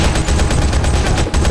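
Rapid automatic gunfire from the mobile shooter game Modern Combat 5, a loud, dense stream of shots that fills the whole burst with only a brief break near the end.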